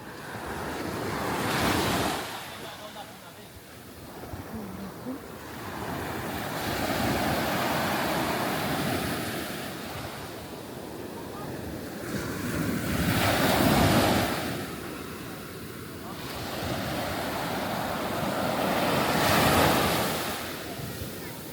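Ocean surf rolling onto a three-star local beach in Sierra Leone, broad washes of breaking waves swelling and receding every few seconds, with wind buffeting the microphone throughout and no talking.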